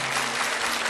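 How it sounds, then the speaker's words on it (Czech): Studio audience on a TV quiz show bursts into loud, dense applause, a short continuous wash of clapping close up. "slyšíte ten potlesk?"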